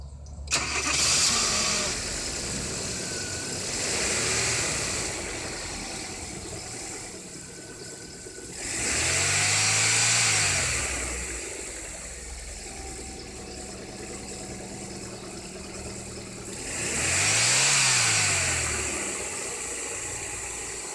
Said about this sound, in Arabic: خلينا ندور كده ونشوف العربيه هتبقى الدنيا ماشيه ازاي